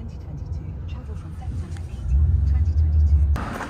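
Low engine rumble of a rideshare car on the move in Montreal during the F1 Grand Prix, growing louder partway through, with a brief door-like knock near the end and voices faintly in the background.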